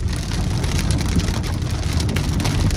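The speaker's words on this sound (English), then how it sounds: "Right nickel size hail." Nickel-size hail pelts a car windshield during a Sierra Nevada hailstorm in California, a dense, loud, continuous drumming of hard impacts with no voices.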